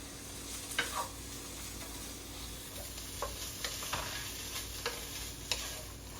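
Food, apparently steak, is stirred in a pan over a faint steady sizzle, with scattered scrapes and clicks of the utensil at a moderate distance and no talk.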